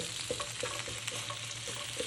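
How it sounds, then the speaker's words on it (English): Potatoes sizzle steadily in a frying pan, a constant hiss with occasional soft pops and clicks. "We want to hear some sizzling."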